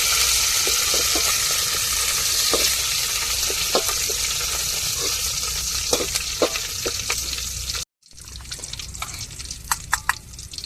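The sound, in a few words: curry leaves sizzling in hot oil for rasam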